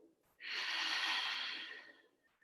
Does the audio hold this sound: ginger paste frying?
no